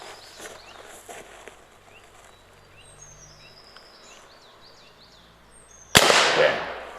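A slingshot fires an arrow with a glued-on tip, hard enough to knock the tip off: one sharp, loud snap of release bursts out suddenly near the end after several seconds of quiet outdoor ambience.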